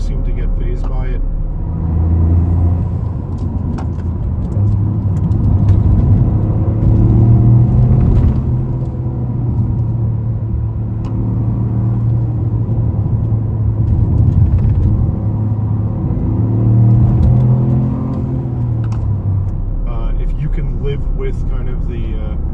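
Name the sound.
Toyota Corolla GR driving over bumpy pavement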